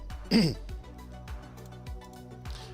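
A man clears his throat once with a short, harsh rasp, followed by quieter faint sounds against a soft background of low tones.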